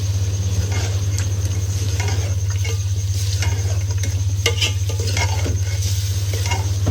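Large cut potato chunks tossed into masala in a pot for aloo gosht, a spoon scraping and clinking against the metal over a steady low hum, near and continuous, with no talking.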